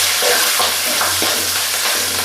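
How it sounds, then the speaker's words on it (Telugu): Chopped green chilies and dried red chilies fry loudly in hot oil, with a dense continuous sizzle and a few stirring scrapes in the pan. "అందులోకి సన్నగా కట్ చేసుకున్న ఓ 10 పచ్చిమిర్చి, ఓ 10 ఎండుమిర్చి వేసి అయితే కలుపుకుందాం."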